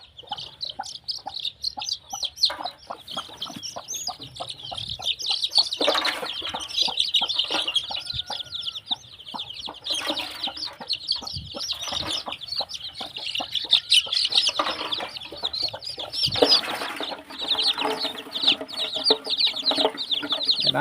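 Mother hens and chicks cluck and chirp steadily in a busy flock, with brighter calls rising over a constant murmur of birds, no talking.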